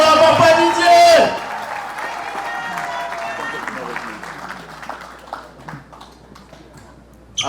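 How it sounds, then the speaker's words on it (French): Applause from guests at a 25th wedding anniversary celebration follows a loud passage of voices, scattered clapping and taps fading gradually, with a sharp burst at the very end. "Applaudissez pour Papa Didier."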